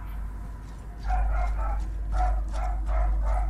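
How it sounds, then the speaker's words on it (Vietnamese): Dogs in God of War bark in quick paired bursts, about half a dozen sharp, mid-distance barks in two clusters over a deep, constant rumbling drone. "Bọn chó điên làm gì lại sủa quá trời dưới trời."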